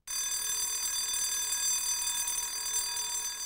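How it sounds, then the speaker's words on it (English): A hotel fire alarm sounds continuously, a loud, steady electronic ringing tone with no talking. "what if you're in your hotel room at night and the alarm really does go off?"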